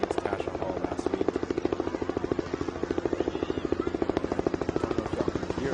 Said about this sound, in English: we got a helicopter coming in across the screen.